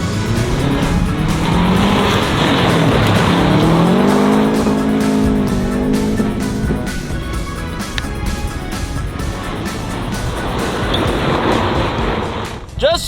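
A saw-blade-wheeled Corvette sliding on a frozen lake under handbrake, engine roaring loud and close with rising revs and tire scrabble, steady and continuous throughout, with people talking over it.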